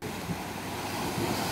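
Strong Arabian Sea waves at Cherai Beach in Kochi, Kerala, a steady loud surf wash with wind rushing across the microphone and no voices.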